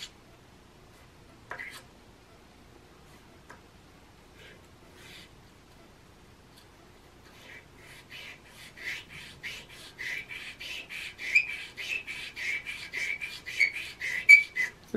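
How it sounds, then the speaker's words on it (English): Sandpaper of 400 grit rubbed back and forth on a Colt 1911 pistol part, scattered faint strokes at first, then a steady run of close, rhythmic rasping strokes growing louder. "400 grit sandpaper"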